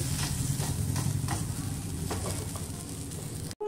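Sour-curd and semolina gola ruti frying in a lightly oiled pan gives a steady, close sizzle with faint stirring, no voices, cutting off abruptly at the end.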